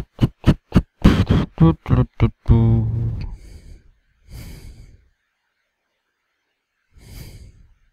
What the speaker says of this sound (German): Sehe ich gerade, man kann mich atmen hören.